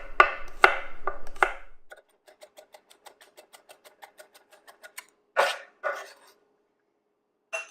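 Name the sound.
chopping garlic cloves finely with a knife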